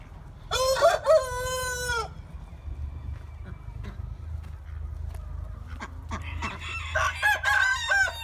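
Chickens and roosters in a coop: a rooster crows loudly near the start, followed by scattered clucks and faint fowl calls, then another crowing burst near the end over low background rumble.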